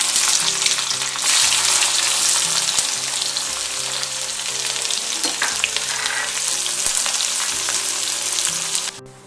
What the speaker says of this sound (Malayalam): നമുക്ക് ഈ എണ്ണയിലേക്ക് തന്നെ അല്പം കടുക് പൊട്ടിച്ചിട്ട് നമുക്ക് പിന്നെ വെളുത്തുള്ളിയും പച്ചമുളകും